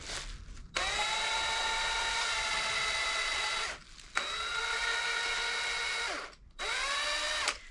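An air-powered 90-degree drill runs in three loud, whining bursts, each several seconds long and spinning down at the end, with short gaps between them and no talking.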